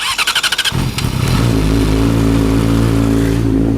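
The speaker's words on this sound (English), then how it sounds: "Here's the cold start with the full exhaust system fully installed." A Yamaha R6 sport motorcycle cold-starts, cranking with rapid starter pulses, then catches and settles into a loud, throaty idle through an open full exhaust system, close up.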